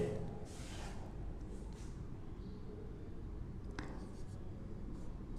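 Pen or marker scratching across a writing surface as a word is handwritten, a steady soft scraping with brief strokes, close and quiet against low room noise.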